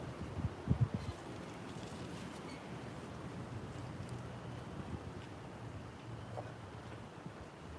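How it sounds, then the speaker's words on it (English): Strong wind buffets a microphone outdoors in front of a parked bus ahead of a storm, a steady low roar with a few louder gusts near the start and no speech. "it's so windy out here"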